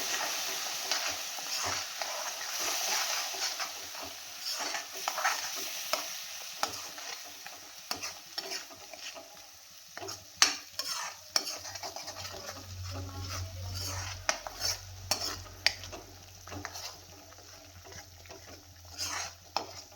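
Mixed vegetables of potato, carrot, peas and cauliflower with ground tomato fry in a pan while being stirred, giving a steady close sizzle with scraping and tapping from the spoon, and no talking.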